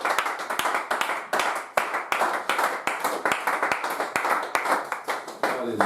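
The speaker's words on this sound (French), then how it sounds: "Est-ce qu'on peut acclamer le Seigneur?" A church congregation at a wedding service claps to acclaim the Lord, with loose rhythmic clapping and sharp individual claps in a steady pattern, close and lively.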